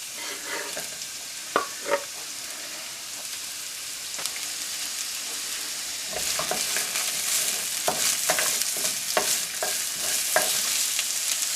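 Vegetables for a bacon and bean sprout stir fry fizz in a pan at moderate volume. Utensil taps and scrapes break through, and the sizzle grows busier midway.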